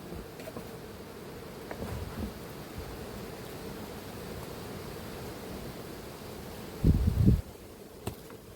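Bees swarm in a full colony in an opened hive box at an apiary, a steady soft buzzing drone throughout, with a brief louder bump of handling noise near the end.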